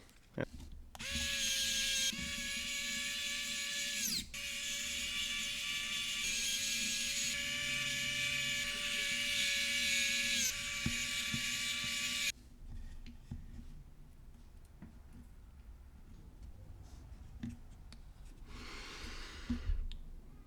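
Small black screws being driven back into the plastic shell of a Powkiddy X55 handheld game console with a small electric screwdriver, a close steady whine lasting about twelve seconds, then quieter handling noises.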